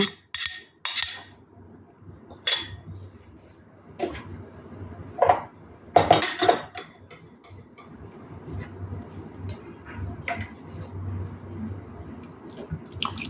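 Batter for pumpkin-leaf jangtteok is mixed with flour in a bowl, producing irregular sharp clicks of a utensil against the bowl and soft wet squishing between them, close and moderately quiet.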